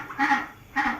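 Ducks or muscovy ducks give two loud, close honking calls, one early and one near the end, at a poultry slaughter site with chickens, ducks and muscovy ducks present.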